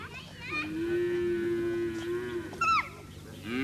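Cattle from Ovahimba herds in Kaokoland, Namibia, low out in one long, steady moo, followed by a shorter, higher call, heard fairly near over open-air ambience.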